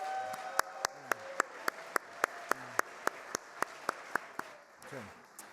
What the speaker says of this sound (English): Please, a big round of applause for all of those films and the filmmakers.